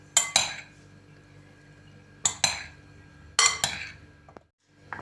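Three sharp clinks of a metal spoon against a bowl, spaced apart, each followed by a brief scraping rattle as a salad with mayonnaise is mixed.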